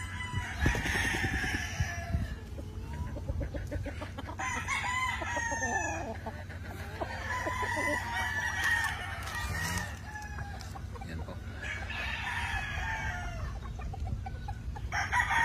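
Gamefowl roosters crow repeatedly on a farm in the Philippines, several long crows overlapping amid clucking, with a low steady hum underneath and no speech.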